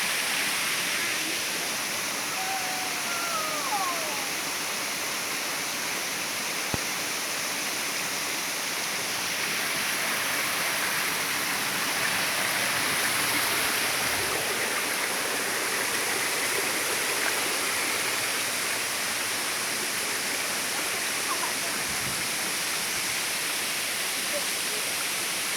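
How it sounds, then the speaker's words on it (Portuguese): A waterfall along a hiking trail to a cascade, a steady, dense rushing roar of falling water that stays constant and fairly close throughout, with a faint low thump partway through. "Tô filmando você não, tô filmando a cachoeira."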